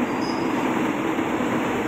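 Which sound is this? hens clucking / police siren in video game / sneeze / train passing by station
train passing by station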